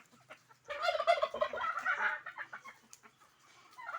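Chickens clucking and turkeys gobbling in a pen, a burst of overlapping calls, close and moderately loud against a quiet background.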